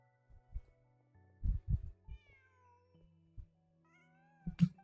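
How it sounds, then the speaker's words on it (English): A cat meows in the Genshin Impact video game, a few drawn-out, wavering meows spread across the span over a low hum and scattered soft thumps, quiet and close, with a sharper sound near the end. "Just a cat."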